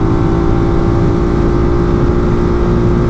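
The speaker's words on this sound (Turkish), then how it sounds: "Gaza geleyim." A Ducati Multistrada 1260S motorcycle engine roars loud and close, a dense sustained revving drone held steadily throughout.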